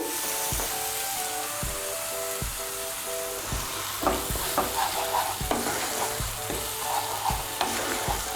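Tomato paste added to a spice mixture frying in a pan for a new potato and green pea curry: a steady close sizzle with regular rhythmic stirring scrapes, loud and alone without talk.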